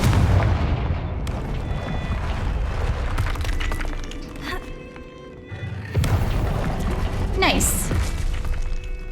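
A Confringo fire spell explodes in the Hogwarts Legacy video game, a loud booming blast with crackling bursts amid continuous game combat noise, with a rising whoosh near the end and voices talking over it.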